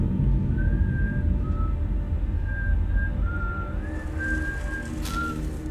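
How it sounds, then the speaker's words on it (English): A man whistles a slow, wandering tune in short held notes while trying to open a safe in a TV drama, steady and moderately close, over a constant low rumbling background. "whistling while he tries to get in that safe they stole"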